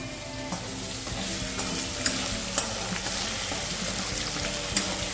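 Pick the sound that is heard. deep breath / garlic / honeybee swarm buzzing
garlic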